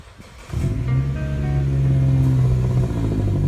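A car engine with a modified exhaust starts up abruptly and settles into a loud, steady, throaty drone that swells slightly as it revs, with no talking.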